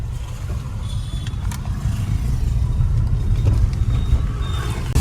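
A car idles and creeps forward while it is being parked, its engine a steady low rumble that swells a little near the end.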